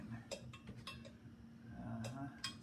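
Homemade hot sauce stirred with a spoon in a pot, giving a few scattered clinks and scrapes against a steady low hum, fairly close and moderate in level.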